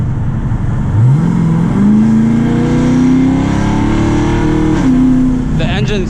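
A cammed Dodge Challenger Scat Pack with long tube headers, in sport mode, revs loudly and close up, climbing steadily in pitch over several seconds before dropping back, with a rough lumpy idle underneath and a brief voice near the end.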